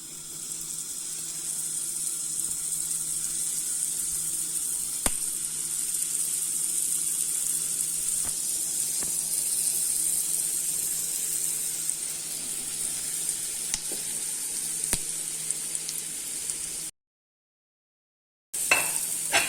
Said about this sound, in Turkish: Kızan yağımızın içine hamurlarımızı bırakalım.